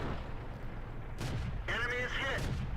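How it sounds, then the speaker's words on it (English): Tank cannon shots in World of Tanks, the Chi-Ri's three-shot autoloader firing in battle: a booming blast followed by a second louder report with ringing, whining tonal sweeps, over a constant low game rumble. "the 3 shots here can really smash tanks"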